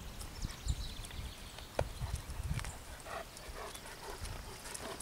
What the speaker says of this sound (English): He's the same horse all the time.